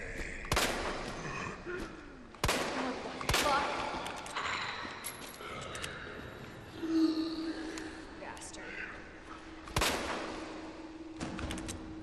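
Sharp, separate gunshots in Resident Evil 2 Remake, about five loud cracks spread across a few seconds over game ambience, with someone talking between the shots.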